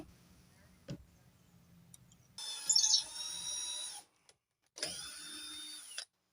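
A power drill whirs in two bursts, a longer high-pitched run then a short second one, after a brief quiet knock and low hum.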